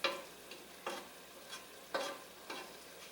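Mushrooms and green asparagus stirred in a hot pan for risotto, with a run of distinct scraping, sizzling stirs about every half second, close by and with no talk.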